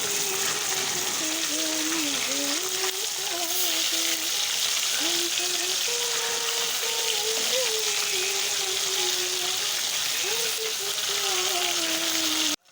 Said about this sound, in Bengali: দিয়ে বেশ ভালো করে লাল লাল করে মাছগুলোকে ভেজে নিতে হবে